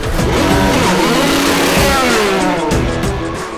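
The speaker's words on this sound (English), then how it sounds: "These cars are loud." Race car engine revving hard at a racing shop, a loud, close, sustained roar that climbs and falls in pitch for a few seconds, with no voices over it.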